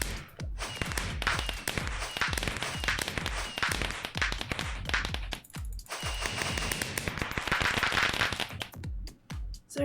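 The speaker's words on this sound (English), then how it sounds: "Sorry if anybody doesn't like the fireworks noises." Fireworks crackle and pop in rapid irregular bursts during a Fourth of July evening, dense sharp reports overlapping continuously with brief lulls, fairly close and loud throughout.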